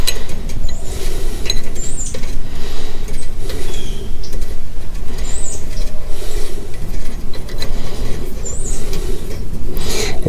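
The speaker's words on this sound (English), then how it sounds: "So we'll take this adjustment nut off." Steady mechanical clicking and ratcheting as an adjustment nut is removed from a lawnmower disc brake, loud and continuous with a repeating rhythm of small metallic ticks.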